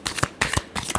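Tarot cards being shuffled by hand during a love reading, three quick riffling bursts close up with brief pauses between, no talking.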